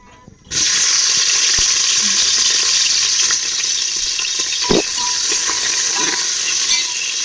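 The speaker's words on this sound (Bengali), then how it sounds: "টমেটোটা একটু ফ্রাই হয়েছে দেখুন" Two large cut tomatoes fry in oil tempered with a bay leaf, a loud, close, continuous sizzle that bursts in after a brief quiet start, with occasional stirring clinks.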